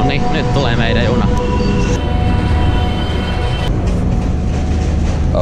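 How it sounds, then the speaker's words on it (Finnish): A Vety hydrogen train in Finland rumbles and clatters nearby, with steady rolling noise and occasional squeals, while people talk over it. "Nyt tulee meidän juna."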